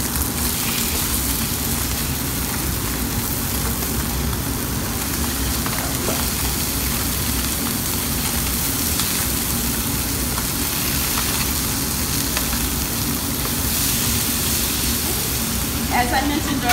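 White fish, already seasoned, frying in a pan for a Mediterranean dish: a steady, loud sizzle holds unbroken throughout, with a low hum beneath it.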